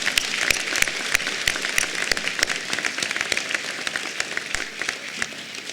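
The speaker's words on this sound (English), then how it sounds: "I think that deserves applause." Scattered applause from a school audience at a Veterans Day celebration honoring a veteran, with sharp individual claps over a steady wash at moderate level, fading slightly toward the end.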